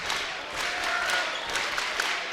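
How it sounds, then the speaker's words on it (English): A large crowd of Utah State Aggie fans fills the arena in Logan during a college basketball game against Wyoming, a steady broadband murmur and cheer with faint squeaks, holding even throughout. "Huge crowd of Aggie fans on hand, as there always is up here in Logan."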